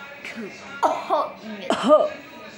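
A few short, throaty coughs sound close up, with brief pauses between them and a bit of breathy vocal noise.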